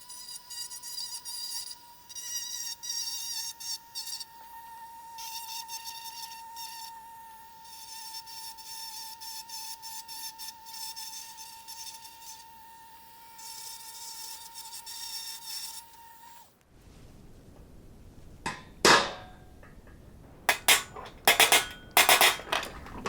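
A small diamond burr grinds steadily around the edge of a wooden saw handle on a Disston restoration, a continuous high whine for most of the stretch, then stopping and giving way to a few sharp knocks and clatters near the end.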